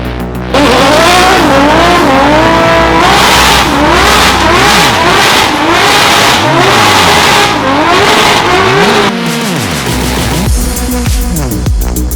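A Mustang drifting at a drift event, engine revving hard in repeated rising and falling sweeps while tires squeal loudly through the slides, close and continuous with no talk.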